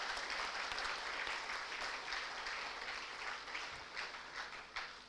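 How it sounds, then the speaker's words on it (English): An audience applauds the guests at the inaugural ceremony of a student induction program, a steady, fairly distant round of clapping that tapers off slightly toward the end. "Can we give a big round of applause to the guests?"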